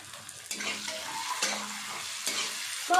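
Fried potatoes sizzle steadily in a pan of fish curry, with three or four scraping stirs of a spoon against the pan. The frying is close and moderately loud.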